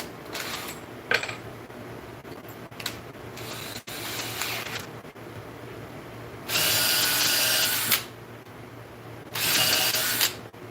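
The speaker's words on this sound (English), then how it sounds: "Send some drill holes through." Power drill boring holes through wood on a benchtop build, several short bursts of loud whining drilling separated by quieter handling noises and pauses.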